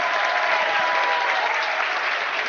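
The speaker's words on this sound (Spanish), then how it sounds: "Un aplauso para todos los que habéis venido esta noche a vernos" A theater audience applauds at an evening event in Barcelona, a dense, steady wash of clapping that stays loud and continuous throughout.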